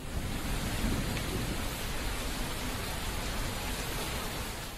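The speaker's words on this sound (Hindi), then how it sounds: "पहाड़ी इलाकों में हो रही भारी बारिश से मैदानी इलाकों में नदियां उफान पर हैं।" Heavy monsoon rain pours steadily in a hilly flood-hit region, a dense continuous hiss of downpour with a low rumble of thunder underneath, unbroken and without voices.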